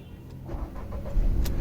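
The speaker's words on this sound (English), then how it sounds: "So first let's turn on the engine." A Volkswagen Taigun 1.0 TSI turbo petrol engine is started with a flip key, a brief crank followed by the engine catching and settling into a low rumble nearby.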